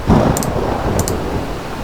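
Steady rain hisses over a low rumble of thunder in the video game Cooking Companions, with a couple of brief high clinks cutting through the wash of noise.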